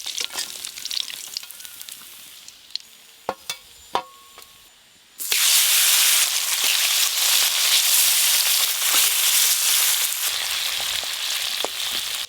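Spice-coated small river fish frying in hot oil in a home kitchen: a few quiet clicks and clatters at first, then a sudden loud, dense, steady sizzle that carries on to the end, with no talk.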